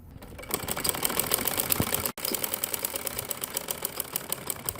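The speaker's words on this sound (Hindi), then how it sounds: "ये देखें जी अब मैं इसको और इसको जोड़कर सिलाई लगाने लगी हूँ" A sewing machine stitches a churidar pajama, a fast, even mechanical rattle running close and loud, broken by one brief pause midway before resuming.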